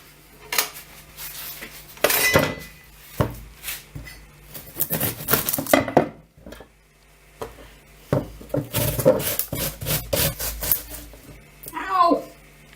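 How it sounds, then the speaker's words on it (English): Scraping and clattering of an onion being shredded on a grater in a home kitchen, loud, irregular bursts with dish and utensil knocks between strokes, short pauses, and a voice speaking in places. "All right, time to shred the onion."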